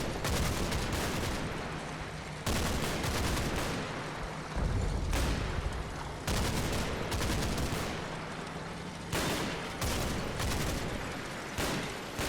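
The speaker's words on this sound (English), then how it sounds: "That suppressive fire we've got laying down against that German foxhole." Machine guns lay down sustained suppressive fire on a German foxhole in the Normandy war game Combat Mission: Battle for Normandy, with long, dense bursts of rapid gunfire broken by brief pauses and distant booms.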